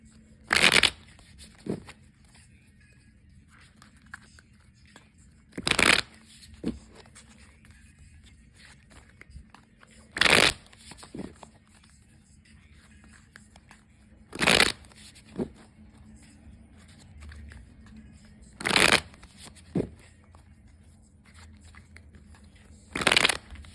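Tarot cards are shuffled in short bursts, a brisk riffling flutter roughly every four seconds, with soft handling rustles and faint room noise in between and no voices.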